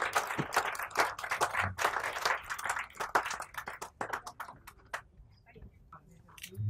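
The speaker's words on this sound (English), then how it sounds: "please can you give a big round of applause to Poonam Sharma" A modest audience at an awards ceremony in the House of Lords claps for Poonam Sharma, a ragged burst of hand claps that thins to scattered individual claps and fades out.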